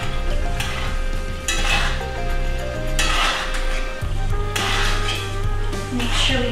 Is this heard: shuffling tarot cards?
no